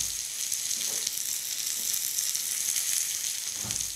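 Curried pork burgers sizzle and crackle steadily in a hot frying pan, a continuous close hiss with a few soft pops and no talking.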